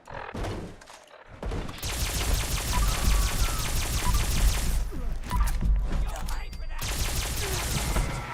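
Rapid pistol fire from a boosted fire-rate weapon in Fallout 76 with a Winter in Appalachia mod, dense fast-repeating shots in long sustained bursts with brief pauses and some game noise.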